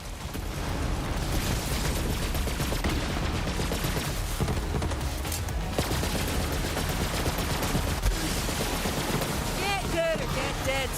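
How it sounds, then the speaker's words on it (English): Chaotic gunfire and explosions from Borderlands 3 form a constant loud barrage with mechanical clatter, while voices talk and shout over the battle. "Shoot him down!"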